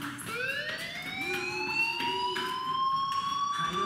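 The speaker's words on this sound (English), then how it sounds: "Hey, do you hear that fire alarm?" A fire alarm in the video game Life Is Strange wails continuously, its rising electronic tones sweeping upward and pulsing in a steady repeating pattern, moderately loud and alone.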